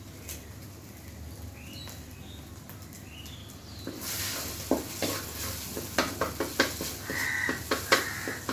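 Egg frying in a pan for chicken fried rice, a steady sizzle that grows louder and crackles more, with sharp spatula taps and scrapes against the pan.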